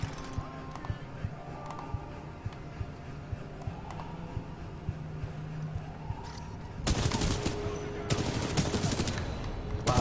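Gunfire in Titanfall 2 during the Blood and Rust mission, sharp repeated shots popping through the first stretch before a louder, denser burst of firing takes over near the end, with a voice talking at times.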